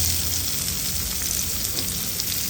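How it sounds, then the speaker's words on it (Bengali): Chopped onion with cumin seeds frying in a pan, a dense hissing sizzle that stays even and close throughout, with no voices and no distinct stirring strokes. "তুলে নিয়ে তারপর পেঁয়াজ দিয়ে একবারে সুন্দর করে ভেজে নেব"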